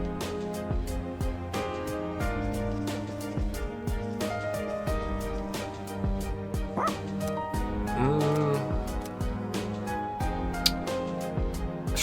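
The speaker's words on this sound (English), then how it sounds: "Is that your dog?" A dog barks and yips repeatedly in the Persona 3 Reloaded video game, with short sharp barks over continuous game music and sound effects.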